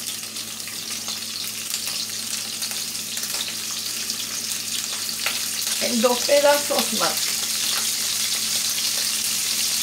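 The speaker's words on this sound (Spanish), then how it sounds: "Ahora se sigue friendo ahí, ¿verdad? A fuego bajito." Fish pieces, including a head, fry in a pan over low heat, a continuous bright sizzle and crackle with occasional pops, while someone speaks briefly midway.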